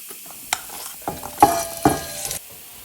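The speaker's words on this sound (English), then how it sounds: "And now we're gonna sear our beef chuck." Beef chuck searing in bacon fat in a Staub cocotte, with a few sharp scraping and clattering strokes over a brief sizzle, loud and close, then fading quiet.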